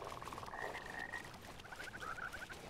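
Frogs croaking in the video game Mortal Shell, a couple of rapid, rattling croak trills in a row over a dense, murky background ambience, moderately close.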